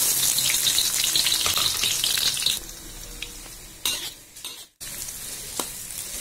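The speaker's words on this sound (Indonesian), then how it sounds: "this is the vegetable oil is hot. Saya akan masukkan onion and garlic." Chopped onion and garlic dropped into hot vegetable oil, sizzling loudly and close while being stirred in a pan, the frying hiss easing partway through with brief scraping and a short break, no voices.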